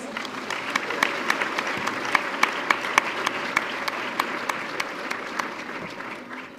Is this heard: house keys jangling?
no